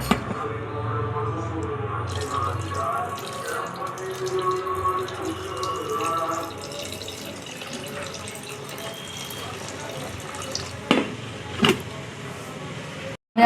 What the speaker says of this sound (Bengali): কপিগুলো তুলে নিয়ে ঠান্ডা জলে ভিজিয়ে দিয়েছি। জলটা ছেঁকে ফেলে দেব।